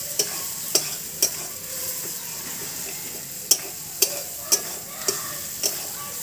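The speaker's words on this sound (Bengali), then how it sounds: "এবার এখানে দিয়ে দেব চাল মগজ আর যে কাজুটা বেটে নিয়েছিলাম এটা দিয়ে দেবো। দিয়ে এটা ভালোভাবে কষিয়ে নেব।" Melon seed and cashew paste sautés in a pan for a fish curry, a steady soft sizzle broken by sharp, close clinks of a utensil against the pan at irregular intervals.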